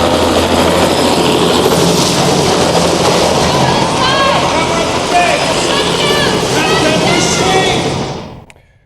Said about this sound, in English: the helicopter arrives